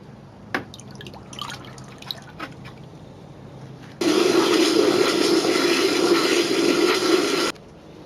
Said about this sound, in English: you could just pour that into the bucket and add water up to the fill line